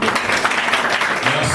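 Crowd applause fills a hall at the launch of a political movement, the Mouvement pour la Démocratie et la Citoyenneté, a dense, steady patter of many hands clapping at close range with voices mixed in.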